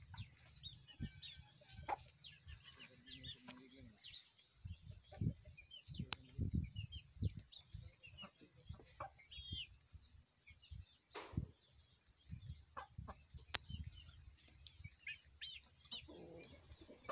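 Chickens clucking and murmuring close by in a busy outdoor farmyard, with scattered rustling and bumps, a few sharper calls standing out.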